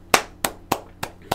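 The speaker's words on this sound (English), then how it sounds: "Let's give a round of applause to Monica" Five slow, separate hand claps ring out for a presenter during a webcast, evenly spaced, close and crisp, with quiet room tone between them.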